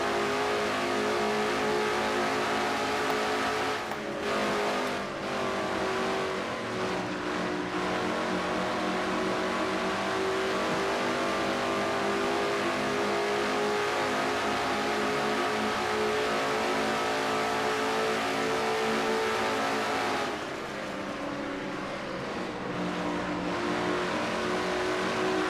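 Race cars roar around Nashville Super Speedway in a sustained, loud pack of engines, with a surge of passing cars near the start and another swelling burst toward the end, no talk over it.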